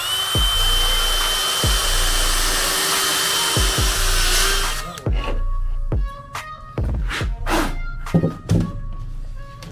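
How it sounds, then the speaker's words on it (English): A power drill whines steadily for several seconds with periodic thunks while drilling stone for a stacked stone fireplace, then stops, followed by a series of sharp knocks and taps nearby. "So I'm just gonna drill this hole out of here first."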